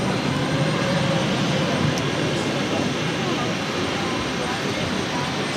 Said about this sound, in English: This is American Airlines 2297 taking off to Dallas Fort Worth on a 737-800.